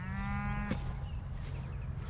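A single cow lets out a low moo early on, followed by quiet outdoor background on a cattle ranch.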